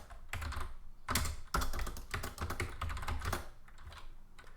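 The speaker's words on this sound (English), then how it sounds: "I start typing stuff." Steady, close typing on a computer keyboard while entering text in the Vim editor, with irregular bursts of keystrokes clattering for several seconds and no talk.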